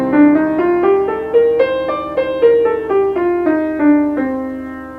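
A C Dorian scale played as a jazz improvisation example, about a dozen clear sustained instrument notes stepping up and then back down at an even, moderate pace.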